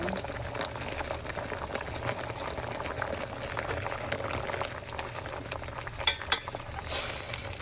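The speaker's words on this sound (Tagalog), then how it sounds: "Sweet corn, cooking sweet corn." Sweet corn boils in a pot, a steady bubbling rumble with light liquid churning throughout, and two brief sharp clicks near the end.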